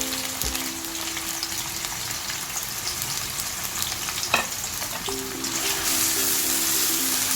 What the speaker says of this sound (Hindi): मेरा तेल गरम हो चुका है। ये 2 मैंने मीडियम साइज़ की प्याज है जिसको स्लाइस कर ली हूँ, वो ऐड